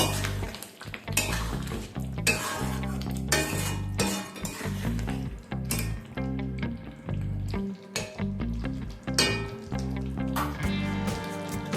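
Garam masala is stirred into chicken curry in a pan, with repeated scraping and metallic clinks of a spoon against the pan under steady background music.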